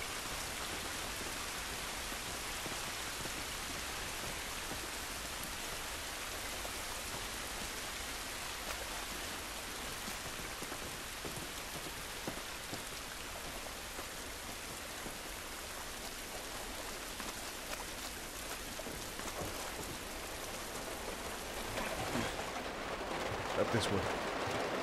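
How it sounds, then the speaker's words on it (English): Steady, dense rain hisses throughout a level of The Last of Us Remastered, a broad continuous wash of falling water outdoors that stays loud and even, swelling slightly near the end. "It's raining."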